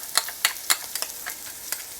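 Garlic and onion sizzle in a pan while being stirred, with a steady hiss of frying broken by crisp scraping strokes of the spatula at an even pace, close up and without talk.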